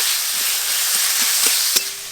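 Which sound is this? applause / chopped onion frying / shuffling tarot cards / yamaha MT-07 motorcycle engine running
chopped onion frying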